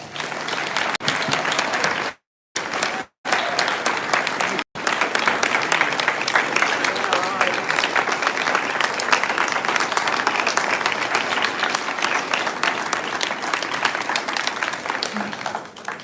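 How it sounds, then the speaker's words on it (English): A crowd at a county Republican convention breaks into sustained applause for first responders and veterans, with dense clapping that briefly drops out twice early, then continues loud and unbroken. "Can we give them a round of applause?"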